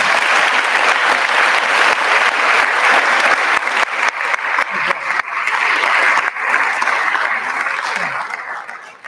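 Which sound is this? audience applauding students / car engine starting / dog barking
audience applauding students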